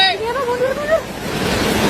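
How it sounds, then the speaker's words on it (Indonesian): Flood water surging in waves through a flooded street in Jakarta, a steady rushing wash that grows stronger toward the end, with a voice calling out briefly over it at the start. "Ombak."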